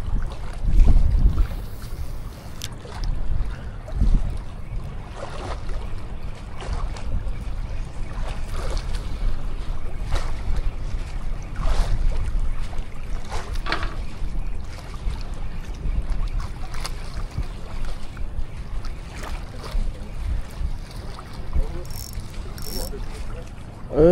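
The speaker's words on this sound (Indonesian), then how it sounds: "Anginnya kenceng sekali." Strong wind buffets the microphone outdoors while ultralight fishing, a continuous low rumbling roar with gusty surges throughout.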